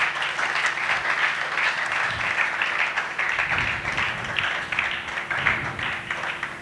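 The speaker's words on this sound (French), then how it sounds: "Est-ce que tu peux bénir Dieu avec tes acclamations si ça passe?" Church congregation at a Sunday service breaking into steady applause and acclamations, a continuous wash of clapping with faint cheering voices beneath it, moderately distant in a reverberant hall.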